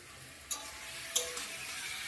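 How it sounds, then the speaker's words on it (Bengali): Fried potato and pointed gourd sizzle in a pan with a soft, steady hiss, broken by two sharp utensil taps against the pan. "এই দেখো এদিকে পটল আলু ভাজা এই যে দিয়ে দিলাম।"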